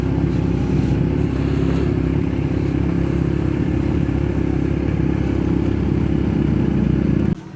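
Steady low engine rumble of motorcycles idling nearby in a parking area at Sulangan Church, Philippines, continuous and loud throughout, with faint clatter, ending abruptly.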